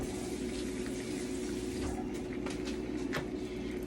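Garlic parmesan butter sauce simmers in a pot, a steady close bubbling hiss with a faint underlying hum and a few soft pops, continuous and without speech.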